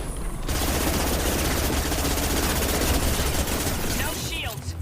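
A gun in Mass Effect 2 firing in a dense, rapid automatic burst lasting several seconds, loud and continuous, with a voice briefly audible near the end.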